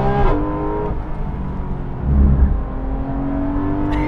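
A Porsche sports car engine revs on a racetrack during a track day, a loud, close rising whine that climbs through gears, with a brief surge of deeper rumble in the middle.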